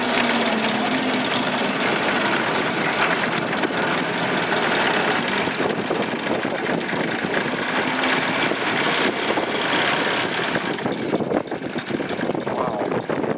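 A 1914 Ford Model T engine runs steadily while the car is driven, a loud continuous rattling chug filling the whole stretch, with no clear change in pace as it keeps pulling.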